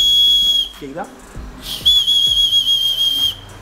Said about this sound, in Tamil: சின்ன ஒரு விசில் ப்ளோவர் கொடுத்துருக்காங்க.